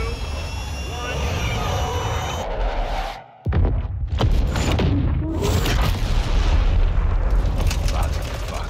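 Missile strike explosion in the video game Call of Duty Modern Warfare II, heard as a loud, continuous roaring rumble that drops out briefly, then a heavy boom and sustained roar with dense low-end blast noise.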